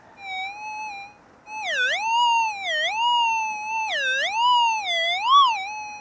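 A Minelab GPX 2300 metal detector sounds a loud, steady electronic tone over a target on bedrock while gold prospecting, the pitch dipping and swooping repeatedly after a brief pause.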